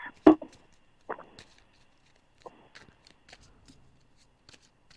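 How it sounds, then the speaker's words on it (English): Tarot cards being shuffled by hand during a reading, a few crisp riffling bursts near the start and then fainter scattered handling clicks in a quiet room. "I can shuffle the cards, and then you can tell me when to stop"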